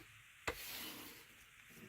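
Paper being rubbed smooth by hand for a junk journal, a brief knock followed by a soft, sustained rubbing swish, close and quiet with no talk.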